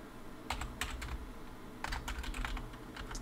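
Rapid bursts of computer keyboard typing while entering brand and model data into a spreadsheet-like query tool, clicking in quick clusters with short pauses between, close and moderately loud over a low background hum.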